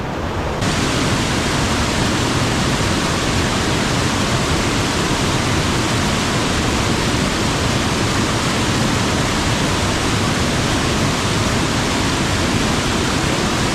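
A river in Cagayan Valley rushes along, a dense, steady broadband roar of flowing water at close range, continuous and unchanging throughout, with no voices heard.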